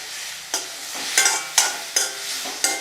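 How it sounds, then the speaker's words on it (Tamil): Ripe tomatoes sautéing in a pan, a close, continuous sizzle punctuated by five sharp spoon scrapes spaced evenly about half a second apart, with no voices. "தக்காளி நல்ல பழமான தக்காளியாக இருந்தால் சீக்கிரமாக நல்லா வதங்கிடும்."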